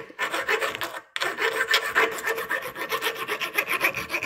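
A hand file rasps a bevel onto the cut end of a shortened bolt, steady back-and-forth strokes close up and fairly loud, with one brief pause near the start.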